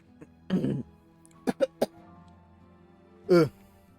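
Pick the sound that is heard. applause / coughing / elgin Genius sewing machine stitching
coughing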